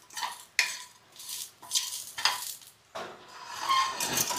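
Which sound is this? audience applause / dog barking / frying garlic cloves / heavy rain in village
frying garlic cloves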